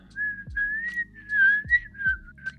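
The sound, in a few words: person whistling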